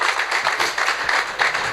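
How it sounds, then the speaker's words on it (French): An audience applauds a bank's general director at a hackathon event, a brief dense burst of clapping, fairly loud and close, with no voices over it. "on peut l'applaudir, s'il vous plaît."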